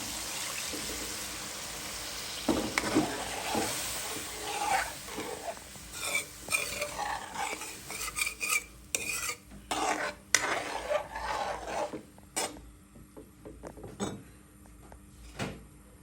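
Spice masala for a bele fish curry being stirred and sautéed in a pan, soft scraping and clinking of a utensil in irregular strokes over a faint sizzle, quieter toward the end.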